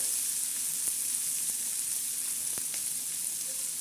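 Bombay duck fish and onion sizzle on a hot griddle, a steady bright frying hiss throughout with a few faint scrapes or taps, no voices.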